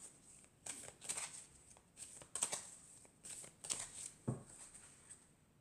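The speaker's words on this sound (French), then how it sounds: "Je vais tirer une autre carte." Tarot cards are shuffled in a quiet room: several short, crisp riffling bursts close by with brief pauses between them and no talking.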